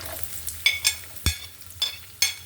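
Chopped garlic and onion in hot oil give a quiet sizzle broken by several sharp spatula clinks and scrapes, close up, with no talk.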